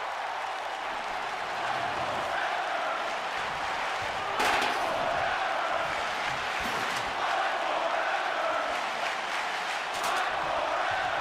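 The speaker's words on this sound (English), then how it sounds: "Well, there you hear the crowd here in Baltimore. They're chanting for Walter and Sami to fight forever." Wrestling arena crowd in the WWE 2K video game, set in Baltimore: a steady wash of crowd noise with rhythmic chanting surges and a few sharp impacts, fairly faint and continuous throughout.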